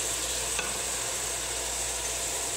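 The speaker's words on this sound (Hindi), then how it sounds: "प्याज और हरी मिर्च को हम 3 से 4 मिनट तक भूनेंगे" Onions and green chilies fry in a pan, giving a soft, even sizzling hiss with faint stirring, steady and close throughout without any talking.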